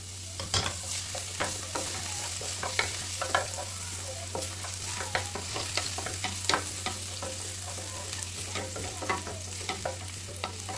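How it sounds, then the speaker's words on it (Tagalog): Garlic sautéing in hot oil in a pan: a steady close sizzle throughout, with frequent clacking stir strokes scattered across the sizzle and a low constant hum beneath. "Igisa natin. May mantika na ito guys. So may mantika na. Lagyan natin ng garlic."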